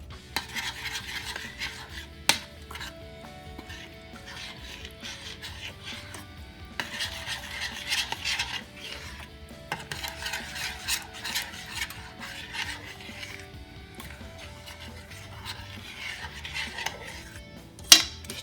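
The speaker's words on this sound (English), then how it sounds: "Stir it together" Seasonings stirred into a Cajun seafood butter sauce, repeated rhythmic scraping and clinking of a utensil against the pot with a faint simmer, and a couple of sharp knocks.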